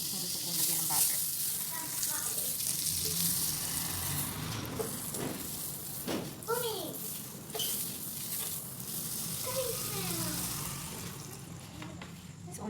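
Oil and butter sizzle and fry in a pan at the start of a chicken curry, a steady close hiss that runs throughout, with a voice talking over it now and then.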